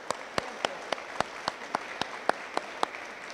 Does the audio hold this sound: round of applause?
yes